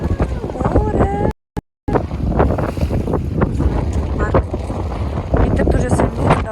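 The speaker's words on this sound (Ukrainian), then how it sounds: "Вітер дуже сильний" Strong wind at the seaside buffets the microphone in heavy, roaring gusts, with a brief dropout and faint voices under the rush.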